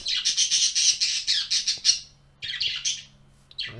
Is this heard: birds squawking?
yes